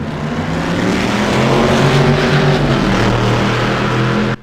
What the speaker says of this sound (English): I really do like the sounds of this car at iRacing